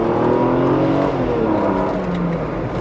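A 1995 Mercedes-Benz W124 station wagon engine runs loud and close, a steady droning hum with a slowly shifting pitch and no voices.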